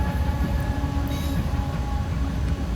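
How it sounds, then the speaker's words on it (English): A short freight train of intermodal container cars passing at Daggett on a sunny day, a continuous low rumble and rattle of rail cars close by, with no talk. "A short train, that's neat."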